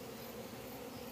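Honeybees fly in and out at a beehive entrance, making a faint, continuous, even buzzing hum that sounds steady throughout.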